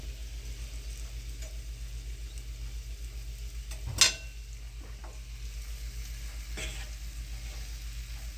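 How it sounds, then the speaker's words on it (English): Hot Italian sausage fries in a pan with a steady close sizzle under a low constant hum, broken by a sharp clank of utensil on metal midway and a few softer stirring scrapes. "Put the sausage on top."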